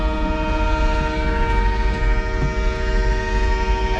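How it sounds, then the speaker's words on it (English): Freight cars shunting between the main track and two sidings at a historic station, a sustained loud rumble overlaid with steady high tonal wheel or brake squeal, close by and with no talking. "they're switching right here on these, the main and then the two sidings"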